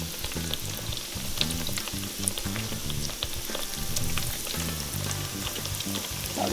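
Breaded eggplant slices fry in oil in a pan, giving a loud, steady, crackling sizzle with rapid popping spatters throughout and no voices.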